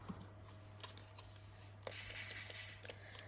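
A spray bottle misting frayed burlap on a Christmas junk journal folio cover, a short hissing burst of spray, soft and close, between faint rustles and dabbing on a quiet table.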